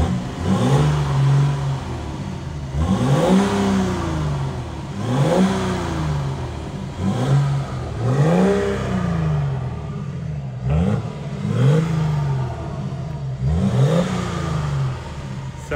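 A remapped BMW diesel engine revs repeatedly, rising and falling in about seven close, loud bursts with a deep throaty growl.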